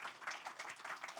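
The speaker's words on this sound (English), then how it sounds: "Let's give a more thunderous round of applause for Prof. Jimli Ashidiki." Conference audience applauding a speaker at a rule-of-law forum, a faint, distant patter of many hands clapping steadily for a moment.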